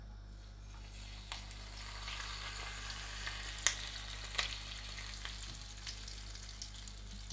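Hot oil sizzling in a pan, a steady soft crackle held at an even level with a few brief louder pops over a low constant hum.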